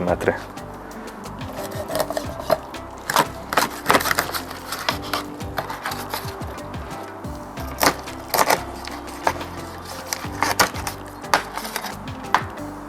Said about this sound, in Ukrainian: Наступним відрізаю голову.